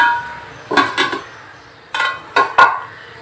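A lid going onto a pan of masala prawns: a handful of sharp metallic clanks and clinks in two short clusters, close and moderately loud against a quiet background.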